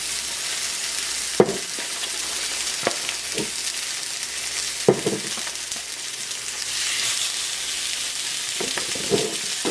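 Pork chops sear in a hot, oiled pan with a steady, even sizzle, broken by a few sharp clicks and knocks from the pan and utensils.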